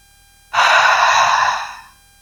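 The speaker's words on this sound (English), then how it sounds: "Exhale from your mouth." A single long, steady exhale through the mouth during a relaxation meditation, breathy and close, rising quickly and then fading gently over about a second and a half.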